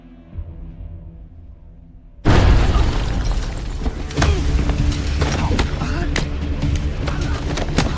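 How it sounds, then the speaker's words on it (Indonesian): A bomb explosion in an action film booms in suddenly after a quiet tone, followed by a sustained roar of rumbling and crackling debris. "bersamaan dengan bom yang meledak"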